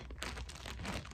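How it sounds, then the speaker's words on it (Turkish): Plastic shipping bag crinkling and tearing close up, a continuous rustling rip lasting about a second, faint and without speech. "Kargo poşetini tam yırtmayayım."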